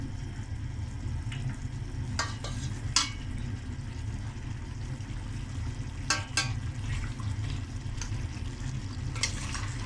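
Mutton goat trotters fry on a high flame, a steady close sizzling hiss with a low bubbling bed and a few sharp crackles and clinks of stirring scattered throughout.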